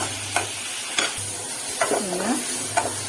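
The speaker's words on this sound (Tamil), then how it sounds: "வெங்காயம் நல்லா வதக்கினா தான் நல்லாயிருக்கும்." Onions sautéing with salt in a pan while being stirred, with a few distinct spatula scrapes and clatters over a soft, steady sizzle, close and alone with no talking.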